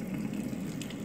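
Deionized water squirted from a pipette around a filter in a Gooch crucible during a lab test for silver in a pre-1965 dime, giving a brief steady hissing splash up close with no talk.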